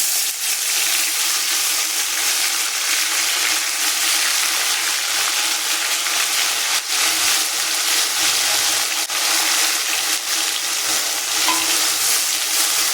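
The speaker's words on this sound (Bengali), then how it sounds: "তারপরে দিয়ে দেবো জিরা বাটা, দিয়ে দিচ্ছি হিং, আর তারপরে দেব জিরা বাটা।" Cumin paste and asafoetida frying in a pan for a veg biryani: a loud, continuous hissing sizzle with soft stirring movements throughout, and no talk.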